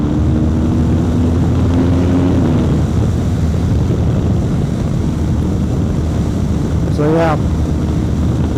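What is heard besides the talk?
riding a BMW GS motorcycle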